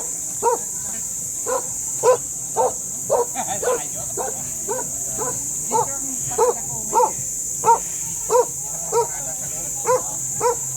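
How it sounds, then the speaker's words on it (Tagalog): Dogs at an animal park in Antipolo, Rizal, bark repeatedly in a steady series of sharp woofs, fairly close, over a constant high electronic whine and some faint background voices. "Yung mga aso rito."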